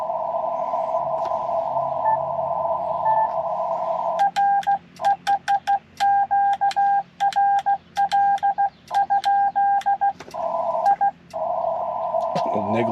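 Morse code sent with a CW keyer on amateur radio in a portable park setting: a steady tone, then a loud burst of rapid on-off beeps in irregular rhythm, then a return to the steady tone.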